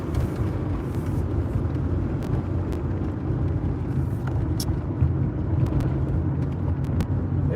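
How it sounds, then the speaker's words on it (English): A white truck passes on a city street, a steady loud engine rumble and road noise building alongside general traffic, with no talk over it. "Oh, here comes a whitey truck all of a sudden."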